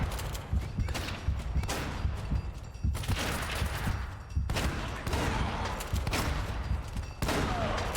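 Shotgun blasts in the video game Uncharted: Drake's Fortune, a rapid series of loud, sharp bursts spaced about a second apart, with clattering and shuffling between shots.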